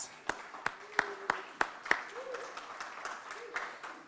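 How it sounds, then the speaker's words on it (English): Scattered applause from a conference audience as a panelist is called to the stage: a handful of sharp, separate claps spaced across a few seconds, fairly quiet in a large room, with faint voices murmuring underneath. "Round of applause. Can you come to the stage, please?"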